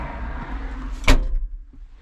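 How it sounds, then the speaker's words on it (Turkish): The cab door of a John Deere 5105 M tractor swings shut with a single sharp, loud slam midway, preceded by a low rumble and followed by a quieter settling knock. "Şöyle kapıyı kapatalım."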